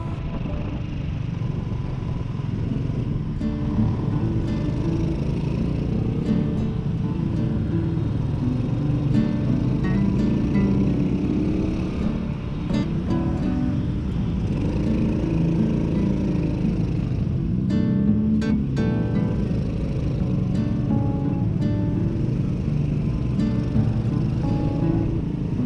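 An old Honda C70 motorcycle labors uphill through mountain traffic, its small engine droning steadily with a low rumble, passing vehicles and occasional horns around it.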